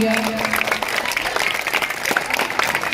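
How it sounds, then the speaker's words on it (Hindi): Applause from a crowd at a school tree-planting event held with the village council. Clapping stays steady and moderately loud for about three seconds, and a voice is heard briefly at the start. "जोरदार तालियां"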